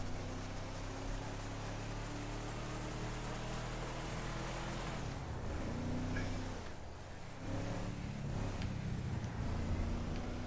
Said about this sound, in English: I wish we had a better bloody car. I hate Trevor's car.